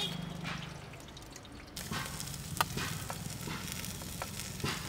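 Mustard seeds, dried red chillies and ginger fry in hot oil for a cabbage thoran, giving a steady close sizzle with scattered sharp pops and crackles and no voices.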